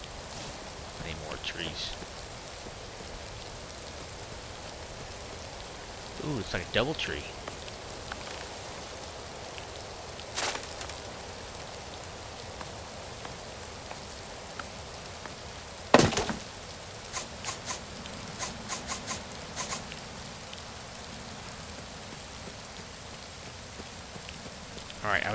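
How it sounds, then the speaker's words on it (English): A steady hiss of rain falls in the voxel survival crafting game Rising World, with a few sharp chopping knocks from tree cutting. A player talks over it intermittently. "But it's raining."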